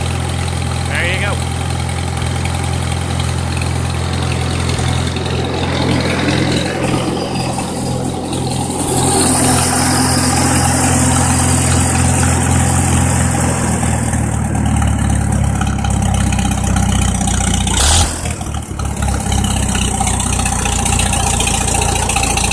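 A 1953 Farmall Super H tractor engine idling loud and close, a continuous rough low rumble that shifts slightly partway through, with people talking faintly under the engine noise.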